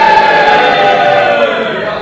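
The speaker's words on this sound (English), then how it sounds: "Crowd not happy about that." A large wrestling-event crowd lets out a sustained, steady roar of disapproval that fills the arena, loud and continuous throughout.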